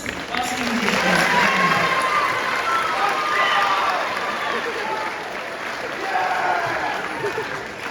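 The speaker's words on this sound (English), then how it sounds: "let's give it a round of applause for these awesome musicians" A school spring concert audience applauds the student musicians, a steady wash of clapping with some cheering that swells and holds for several seconds, while a voice talks over the top.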